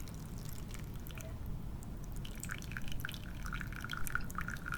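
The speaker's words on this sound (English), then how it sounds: "The water then drains into the media grow bed." Water from a small aquaponics demonstration trickles and drips into a media grow bed, a faint, steady patter with light gurgling that continues throughout without speech.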